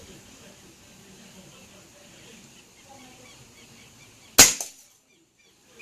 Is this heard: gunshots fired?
yes